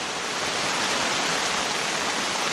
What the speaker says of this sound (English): Well, you listen to that. That is a real shower.